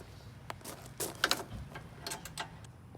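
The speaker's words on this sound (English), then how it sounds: "So I'm gonna tighten this side." A hand ratchet tightens bolts on a lower grille LED light bar of a 2016-or-later Toyota Tacoma, giving quiet, quick bursts of mechanical clicking in short irregular runs.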